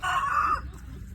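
A desi rooster lets out a single loud, close crow lasting about half a second, followed by quieter farmyard background from native chickens near a lit clay stove.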